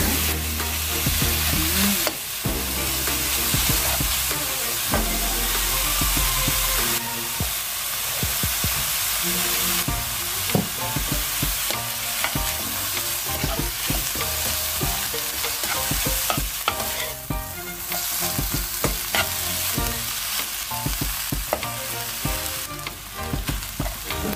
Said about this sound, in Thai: เดี๋ยวคั่วหมูสุกก่อนแล้ว เดี๋ยวพริกแกงตามลงไปจ้า นี้เราก็ใส่พริกลงไปคั่วเลยนะคะ